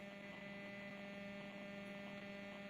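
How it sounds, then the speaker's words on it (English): Steady electrical buzzing hum from a household fridge or freezer, faint and constant throughout with no voices. "I hear a buzzing sound too, but I think it's coming from like my fridge or freezer or something"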